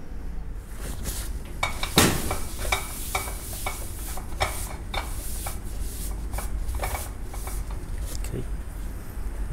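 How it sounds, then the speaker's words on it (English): Diced Spam stirring and frying in an oiled skillet, a steady soft sizzle with scraping, clicking spatula strokes against the pan throughout, one sharper knock near the start. "throw it in the skillet and cook it up"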